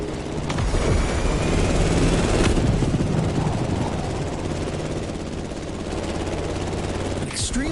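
A plane engine in the video game The Crew Motorfest drones loud and steady throughout, a rough buzzing rumble with a brief whoosh near the end, while a voice talks over it.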